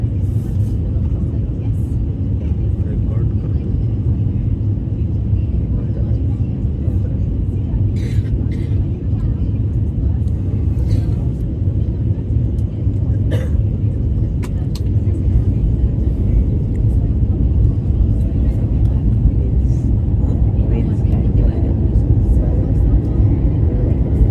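Etihad Airbus A350-1000 cabin on the Paris to Abu Dhabi flight as the landing gear and flaps extend: a loud, steady low rumble and airflow roar that fills the whole stretch, with faint voices nearby.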